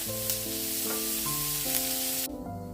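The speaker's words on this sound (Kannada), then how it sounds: "ಜಿಂಜರ್ ಗಾರ್ಲಿಕ್ ಇದ್ದು ಪೇಸ್ಟ್ ಇದ್ದು ಇದು ಸರಿಯಾಗಿ ನೋಡಿ ಫ್ರೈ ಮಾಡಬೇಕು ಇದನ್ನು" Ginger garlic paste frying in a pan for a homemade chicken puff filling, giving a steady close sizzle with tonal music running over it and no talking.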